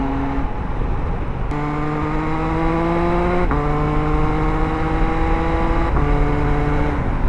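An MV Agusta Enduro Veloce adventure motorcycle engine revs hard under open throttle, loud and close, its pitch climbing in a series of strong rising pulls with brief drops between shifts. No voices are heard.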